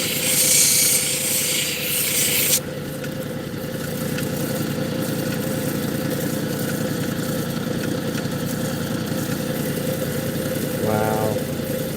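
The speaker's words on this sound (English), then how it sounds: "Let's carefully grind that away." A stone piece with two color layers being ground away at the side, a steady abrasive rasping whir running continuously at close range, with a harsher hiss at the start.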